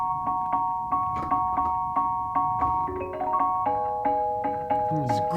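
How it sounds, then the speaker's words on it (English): A MIDI music box plays a bright tinkling melody of plucked tones in a steady rhythm, with a soft low accompaniment beneath, moderately quiet and without voices. "It's just MIDI music box, but it sounds fun."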